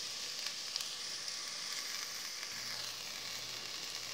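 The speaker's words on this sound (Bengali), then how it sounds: "এখন এই চাউলগুলোকে 2-3 মিনিট ধরে মিডিয়াম আঁচে চুলার হালকাভাবে একটু ভেজে নিব" Polao rice fries gently in a pan over medium heat with a little browned onion, a soft, even sizzle with faint stirring scrapes, quiet and close.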